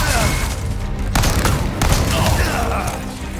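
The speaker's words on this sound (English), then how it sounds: "Yeah, just take a shotgun to the face." Shotgun blasts in the video game Resident Evil 4 Remake form a loud, dense barrage of booming gunfire that fills the whole short moment without pause.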